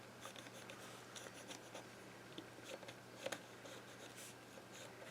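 A pen or marker drawing a thick line on paper, a soft continuous scratching close by with small irregular strokes and a brief tap near the end, no talk.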